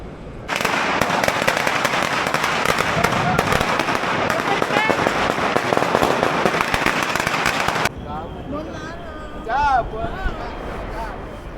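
A dense, loud barrage of firecrackers pops and crackles nonstop for several seconds on New Year's Eve, then cuts off, leaving distant bangs and voices in the background.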